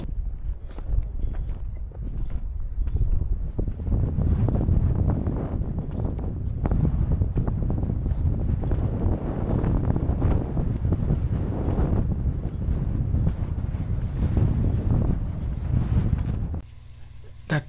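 Strong, gusty wind buffeting the microphone in open backcountry ski terrain at Norikura, a loud continuous roar with surging gusts that drops off abruptly near the end.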